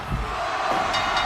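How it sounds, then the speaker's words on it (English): Wrestling arena crowd from Fire Pro Wrestling World roaring in a steady, dense wash of cheering during a WWE-style match between Styles and Bryan, loud and continuous with no break. "the crowd is going berserk for this moment in time right now"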